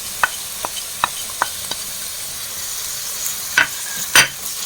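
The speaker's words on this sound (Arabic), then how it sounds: "ونحرك كامل المقادير ونخليهم يطيبوا مع بعضيهم" Chicken, onion, salt and spices stirred as they fry in a pan: a steady sizzle runs underneath while a spoon scrapes and taps in sharp, evenly spaced knocks, ending in a couple of louder scrapes.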